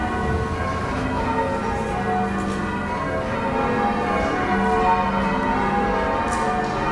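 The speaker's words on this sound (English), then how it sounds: "People have been ringing bells for thousands of years." Church bells in Cambridge pealing in change ringing, a steady wash of overlapping ringing tones that sustains for several seconds, heard from nearby and without any voices.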